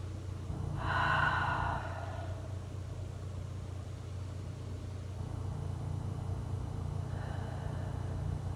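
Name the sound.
breathing while resting in a ballet stretch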